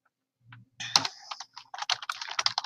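Quick bursts of typing on a computer keyboard, starting with a couple of isolated clicks and then settling into a steady, close patter of keystrokes with brief pauses.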